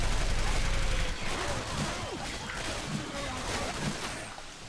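Gunfire from the Left 4 Dead 2 video game on a dark, stormy night: a few sharp shots in loose bursts stand out over a steady roar of rain and wind, with faint voices in the background.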